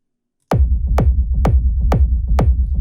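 Five punchy peak-time techno kick drums thump at an even tempo, each layered with a deep, sustained rumbling bass tail sidechained to the kick.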